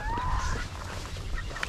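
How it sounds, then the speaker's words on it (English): A rooster and chickens cluck and call in a farmyard. The sound is moderately close, over a low background rumble, and there is no talk. "That rooster, Valentino, is trying to figure out, hey, what's going on?"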